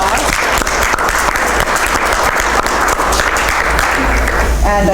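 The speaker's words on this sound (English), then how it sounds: "please join me in giving our panelists a warm round of applause" An audience at a history conference roundtable gives the panelists a loud, sustained round of applause, dense clapping filling the room from start to finish.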